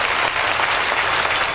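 Loud, continuous applause from a seated audience at a Brahma Kumaris stress-relief camp in Munger, Bihar, honouring a sister, a dense and even roar of clapping throughout.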